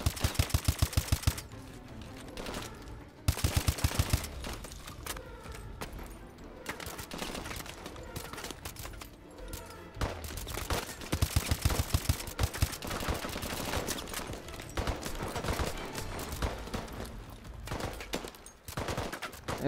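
Sustained automatic gunfire from the shooter Call of Duty Advanced Warfare in a bio lab mission, with long rattling bursts, sharp close shots and impacts nearly continuous throughout, loud and busy.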